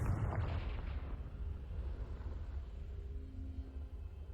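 A Confringo spell blast in the Hogwarts Legacy video game booms in a heavy rumbling burst, then a low rolling reverberation slowly fades.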